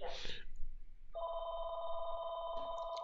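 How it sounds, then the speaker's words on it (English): An electronic telephone bell trills steadily in a trading office, a close, sustained ring after a brief burst of speech, with a second phone tone faintly overlapping near the end. "all the phones are ringing here"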